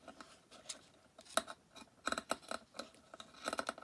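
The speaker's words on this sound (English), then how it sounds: "This lace is moving as I'm cutting it" Scissors snipping around a piece of lace that shifts while being cut, giving a run of crisp, close clicks and short snips in irregular rhythm, with no voices.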